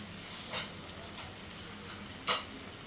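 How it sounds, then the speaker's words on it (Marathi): Water heats toward a boil in a pan for a sooji snack, giving a soft continuous hiss and bubbling with two brief louder bursts of sizzling. "आता ह्याला मी चांगली उकळी आणते"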